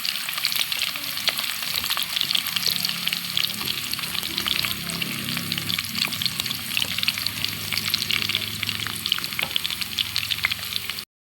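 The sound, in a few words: siomai sautéing in onion and garlic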